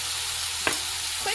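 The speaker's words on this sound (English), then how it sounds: "Quick stir." Food in a cooking pot is stirred after a pinch of turmeric goes in, a steady sizzling hiss with one short scraping stir sound in the middle.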